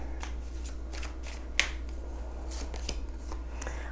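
A deck of Gypsy fortune-telling cards shuffled close by: a quiet series of soft riffling flicks and taps in an irregular rhythm, with one sharper snap partway through, over a low steady hum.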